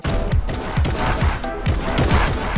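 Rapid gunfire in the Fortnite video game, a loud, close burst of repeated shots in quick rhythmic volleys with a short lull midway.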